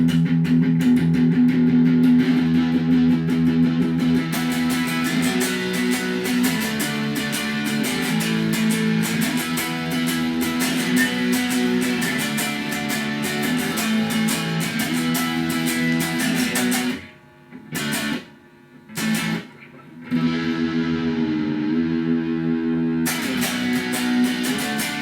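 An electric guitar is played through a Cyclone effects pedal, with dense sustained chords ringing continuously, several abrupt stops and silences near the end before the playing resumes.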